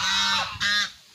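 A baby goose gives two short, loud, nasal honks in quick succession, close by, with nothing else heard.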